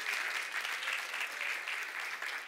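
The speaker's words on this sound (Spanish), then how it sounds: "Le da ese aplauso fuerte." A church congregation claps loudly and continuously at a service, a thick, even roar of many hands that fills the whole moment without pause.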